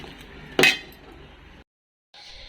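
A metal spoon stirs hot milk in a cooking pot while payesh is being made. One sharp metallic clank rings out near the start, followed by faint scraping and then a stretch of silence.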